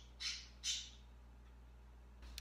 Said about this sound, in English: my bird's just got an attitude